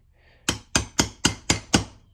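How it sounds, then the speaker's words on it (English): A hammer taps a socket to seat a part on a roughly 70-year-old outboard motor, six sharp metallic strikes in an even, quick rhythm, close and clear with no talking. "you can hammer that inside with just a couple of taps"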